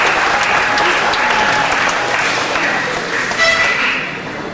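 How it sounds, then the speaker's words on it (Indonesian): Audience applauding a model parent at a school foundation chairman's address, a dense, steady wash of many hands clapping that holds loud throughout, easing slightly at the end. "Tepuk tangan untuk orang tua teladan."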